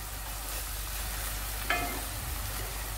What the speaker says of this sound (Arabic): نبداو نقليو البصل والثوم حتى يطلق البنة تاعو في الزيت